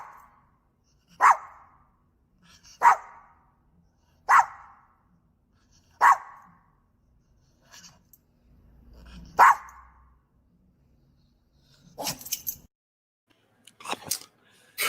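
Single dog barking in short, sharp, well-spaced bursts, about six barks roughly every one to two seconds, fairly close and alone, followed by a few brief clattering noises near the end.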